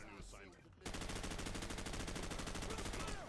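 Rapid automatic gunfire in Call of Duty 4: Modern Warfare, aimed at a light, a fast even rattle of shots starting abruptly after a short quiet moment and continuing steadily, loud and close.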